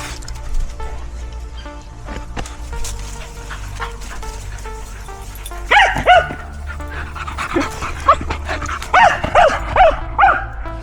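Sadie the dog barking in woodland on a walk, repeated sharp barks and yips in bursts, close and loud, with panting and rustling between.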